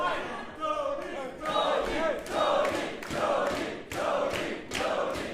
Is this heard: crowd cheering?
yes